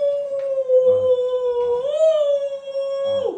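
A person imitates a wolf howl with the voice, holding one long sustained wavering tone that rises slightly midway and then settles, loud and close, with small bits of background voices at points.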